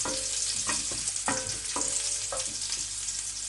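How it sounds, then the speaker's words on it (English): Cumin seeds frying in a pan over a low flame give a steady close sizzle and crackle, with several sharper pops and stirring clinks at irregular intervals. "I'm also throwing in cumin seeds."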